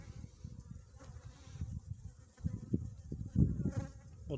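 Honey bees buzz around an open beehive while the colony is being split on a sunny February day. Their droning comes in soft, uneven swells, close and faint, with louder passes toward the end and no talking.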